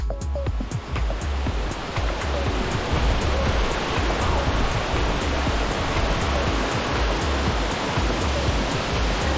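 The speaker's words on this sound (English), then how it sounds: "where you can witness the sun rays and the water from the Chipong River cascade down into the cavern" The Chipong River waterfall pours down into a cavern in Bali, a steady, loud, dense roar of rushing water that continues unbroken from start to finish, with no voices.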